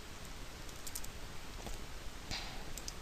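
Quiet, steady computer keyboard typing, a run of faint soft key clicks over a constant background hiss, with no voices.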